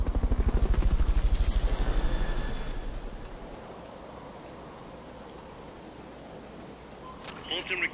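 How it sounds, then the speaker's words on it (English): A recovery helicopter in Metal Gear Solid: Peace Walker thumps with loud rotor chopping that slowly fades into a steady whoosh, followed by a few brief game effects near the end. "And recovery helicopter."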